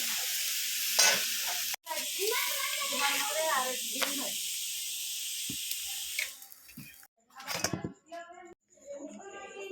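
Naan bread cooks in a hot kadai with a broad, hissing sizzle that starts and stops in bursts, with voices talking over parts of it.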